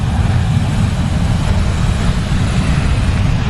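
A Ryanair airliner arriving at London Stansted airport, heard airside as a loud, continuous low engine roar with broadband rumble holding steady throughout, no voices over it.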